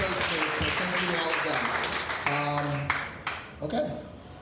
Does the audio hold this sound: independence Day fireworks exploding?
no